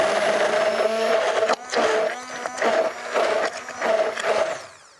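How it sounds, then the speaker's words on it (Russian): A blender whirs in loud bursts while working mayonnaise, about four pulses separated by short pauses, with a high motor whine, fading out at the end. "Опять дорабатываю блендером."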